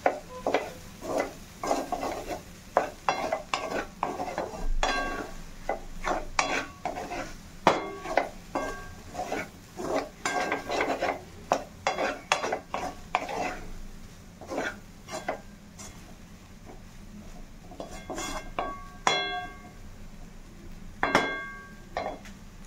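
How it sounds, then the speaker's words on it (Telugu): Veg fried rice frying in a pan is stirred and tossed with a metal utensil, giving a busy run of close clanks and scrapes over a faint sizzle, with no voices. "కొంచెం ఫ్రై అవ్వాలి రైసు. ఆల్రెడీ ఫ్రై అవుతుందండి."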